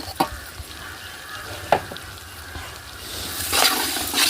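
Coconut masala fries in a pan for biryani with a soft, steady sizzle, a few sharp clinks and stirring knocks, and a louder hissing surge near the end.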